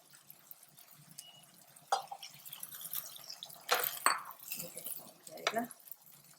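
Water is poured from a cup into a cooking pot while making vegetable tahari, giving intermittent splashing gushes and clinks over a quiet kitchen background, with someone speaking softly.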